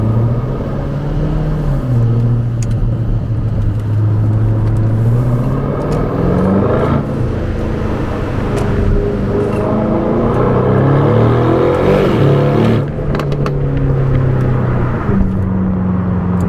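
A 2024 Aston Martin DB12 with a 671-horsepower twin-turbo V8 pulls hard on an interstate, a steady loud engine rumble rising and falling in pitch through several gear changes over continuous road noise.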